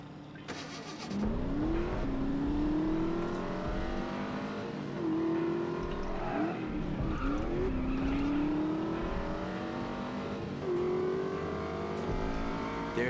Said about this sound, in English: Guess I'll grab my car so I have a getaway vehicle.